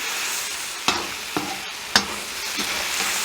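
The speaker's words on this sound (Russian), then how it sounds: "Лук уже обжаривается." Meat and onions frying in a kazan, a soft continuous sizzle broken by a few sharp utensil scrapes and clinks as the food is stirred.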